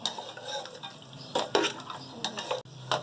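Nihari masala and flour being mixed in a pot at home, a spoon scraping and stirring in bursts with faint clinks of metal against the pot, close and moderately quiet, no voices.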